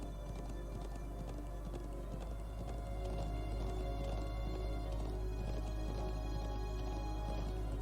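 Rhythmic hoofbeats of a galloping horse in the video game Trails of Cold Steel, steady and continuous over a low rumbling background, fairly quiet.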